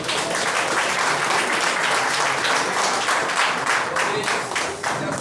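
A church congregation applauds, loud, dense clapping from many hands at close range that continues steadily before easing slightly near the end.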